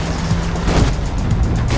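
A vehicle drives hard toward a chasm jump in Far Cry 3 Blood Dragon, a loud, steady engine roar with a low drone holding for under two seconds, no voices.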